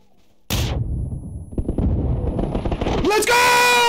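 A grenade explodes with a loud boom in a first-person shooter, followed by a series of rapid, close gunshots and a sharp ringing tone at the end.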